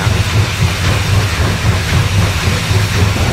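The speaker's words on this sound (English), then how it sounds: "I've got the train coming back down." A steam locomotive on a Roblox railway game, a Castle Class engine at Wattlington, rumbles past with steady low chuffing rumble, hiss and faint clickety-clack, loud and continuous with no talk.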